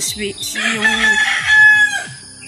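A rooster crows loudly nearby, a long drawn-out call rising and trailing off, with other hens clucking softly around it.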